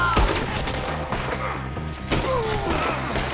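Gunfire rings out in a Red Dead Redemption 2 shootout, a dense fusillade of shots and thuds over game music, with a voice briefly heard in the mix.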